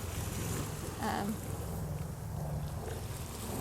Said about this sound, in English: This could be fun with the wind.